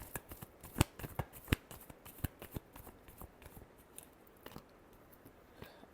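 Tarot cards being shuffled by hand at close range, a quiet run of quick riffling flicks and slaps in an irregular rhythm with several sharper snaps; no talking.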